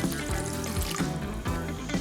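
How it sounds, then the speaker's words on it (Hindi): Half a litre of water poured into a pot holding tulsi leaves, crushed ajwain and turmeric for a home kadha, a continuous close splashing, gurgling stream with no talking over it. "अब इसमें हाफ लीटर पानी डाल दें।"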